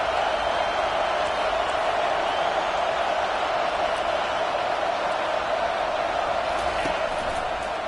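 Home crowd at an AGS versus Ohio State football game, a steady broad roar of cheering and noise from the stands on a third down, continuous and even throughout, with no distinct voices standing out.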